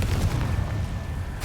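Confringo spell blast in a Harry Potter video game, a deep rumbling boom that sustains for a second and a half, loud and low, without speech.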